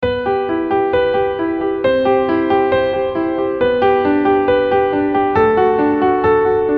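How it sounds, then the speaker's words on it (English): Piano chords played as steady, flowing arpeggios, each note ringing into the next in a repeating rising pattern, clear and fairly loud with no talking. "Impress your friends with this very easy piano melody."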